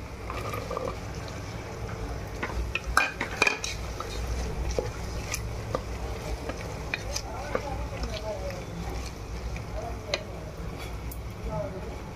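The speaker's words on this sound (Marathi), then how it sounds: "तर आता मी काजू टाकून घेते." Fresh cashews tipped into a pan with onion-garlic masala and stirred, a faint scraping of a spoon against the pan with light clinks and a soft sizzle underneath, quiet and intermittent.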